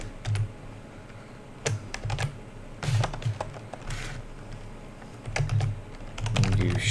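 Computer keyboard typing while writing C# code: bursts of quick, close, crisp key taps come in irregular clusters with short pauses between them, and no one speaks.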